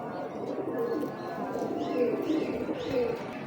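Old-breed pigeons coo repeatedly in soft, low, rolling calls close by, with faint chirps and background murmur.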